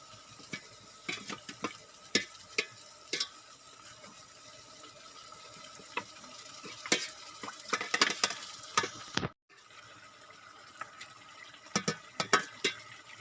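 Paya trotters frying in oil in a kadhai while a spoon stirs and scrapes against the metal, crackling sizzle under sharp repeated clinks and knocks, close up, with a brief drop to near silence partway through.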